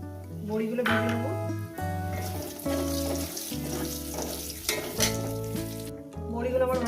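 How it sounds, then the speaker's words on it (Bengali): Lentil badi dumplings fry in hot oil in a pan, a steady hiss and sizzle running under loud background music through the whole stretch. "ওই তেলের মধ্যে বড়িগুলো দিয়ে দেবো"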